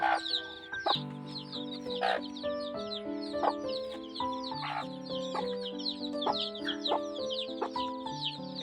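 Growing incubator-hatched chicks cheep and cluck nearby, with overlapping chirps in an uneven, lively rhythm and fairly quiet, with no voices.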